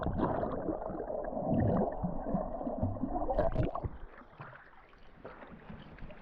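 Soft gurgling and splashing water as someone swims at a nudist beach in Ayia Napa, Cyprus, close and fairly quiet, with lapping and bubbling that fades toward the end.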